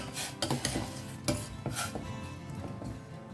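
Curry with potatoes and salt stirred in a pot, a spoon scraping and knocking against the metal in quick irregular strokes over a faint simmer.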